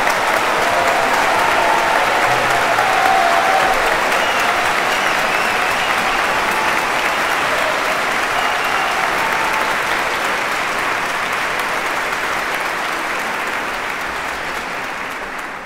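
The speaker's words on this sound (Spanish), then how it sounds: "Párate para que te aplaudan ahí, chico." Sustained audience applause at a concert honoring a composer, a dense, steady clapping of a large crowd that holds evenly for about fifteen seconds before slowly fading slightly toward the end.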